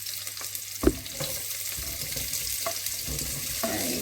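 Chopped onion and garlic frying over medium heat in a cooking pot: a steady, close sizzle with occasional stirring knocks and scrapes, no talking.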